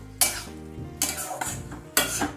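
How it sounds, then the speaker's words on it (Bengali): A spatula stirs radish chechki with added sugar in a pan, three distinct scraping strokes against the metal over a soft sizzle, close and fairly loud. "চিনিটা দিয়ে নাড়তে নাড়তে এবার আমি এতে পোস্ত দানাটা দিয়ে দিলাম"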